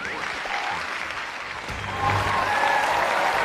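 A studio audience at a televised marriage-mediation show claps steadily, a dense wash of applause that swells slightly louder in the second half, with no speech on top.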